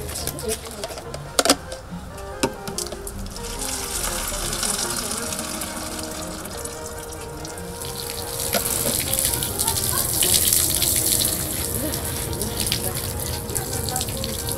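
Water runs steadily from a shower, a continuous hiss and gush that swells louder toward the end, with people talking over it and a few knocks early on.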